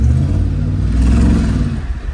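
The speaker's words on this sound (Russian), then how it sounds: "Вот этот выхлоп, вот этот звук, он дает, знаешь, такие другие ощущения" Mercedes G-Class (Gelik) engine revving through a side exhaust, a loud, close, deep rumble with a rising rev and some clatter, heard alone without speech.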